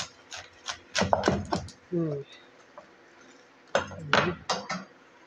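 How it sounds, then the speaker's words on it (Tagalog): A knife cuts through crispy fried lechon kawali pork belly on a board, sharp crackly crunches and taps in two clusters with a pause between, close and fairly quiet, as a voice talks over it. "hiwain ko muna guys tong lechon kawali. Ayan, crispy siya talaga guys."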